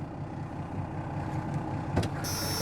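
The engine of a 1992 Dodge Ram D250 with a dealer-installed Banks PowerPack idles after a cold start, a low, steady rumble close by, with a brief click and then a high electronic chime near the end.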